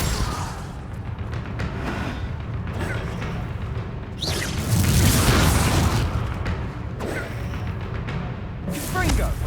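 Confringo blasting spells explode in Hogwarts Legacy, giving repeated booming thuds and bursts over a dense game soundscape, with one louder blast midway and another near the end.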